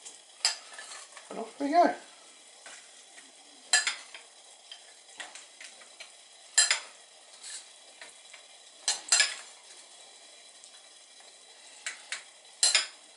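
A wet bird fat snack feeder mix is stirred in a bowl in short scraping bursts with pauses between them, and one voice speaks briefly near the start.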